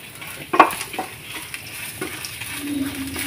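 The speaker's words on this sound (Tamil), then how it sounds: "அதனால் இதை அப்படியே வச்சு வறுக்கிறேன்" Chana dal, urad dal and chilies dry-roasting in a pan for ginger thuvaiyal, a soft steady frying crackle with a couple of sharp spoon clatters as they are stirred, no talking.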